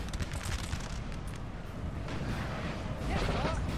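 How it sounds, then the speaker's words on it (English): Artillery fire in a 4v4 battle of the video game Napoleonic Total War 3. A dense, continuous rumble and crackle of cannon and musket fire rolls on throughout and swells louder near the end. "Let's see if this artillery can get a kill."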